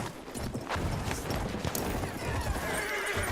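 A horse neighs and whinnies over a dense bed of hoofbeats and battle noise in the World War I video game Battlefield 1, loud and continuous throughout.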